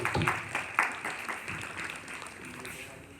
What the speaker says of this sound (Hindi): जोरदार तालियों के साथ स्वागत करिएगा हमारे कवि को